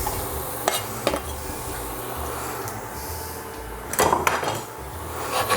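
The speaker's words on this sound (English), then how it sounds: "take our garlic and add it to our oil" Garlic hits warm oil in a pan, giving a soft, steady sizzle broken by a few sharp clanks of cookware near the start and a cluster of louder knocks later.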